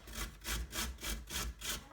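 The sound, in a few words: grating food with a small hand grater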